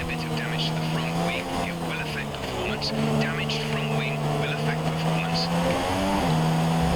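Formula 1 car engine in the F1 2017 video game, a steady buzzing engine whine with gear shifts and pitch changes running continuously under a player talking.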